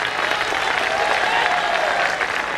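An audience at a Hindi political speech claps in a steady, moderately loud burst of applause with no pauses.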